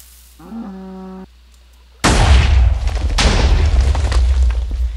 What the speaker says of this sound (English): it applies with creepers, you will actually get launched by the explosion